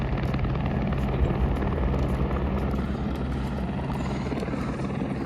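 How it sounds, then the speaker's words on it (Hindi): A helicopter flies near the helipad at Kedarnath in the Himalayas, its heavy rotor thumping and engine roar loud and continuous, fading slightly toward the end as it moves away. "और वो जा रहा है हेलीकॉप्टर"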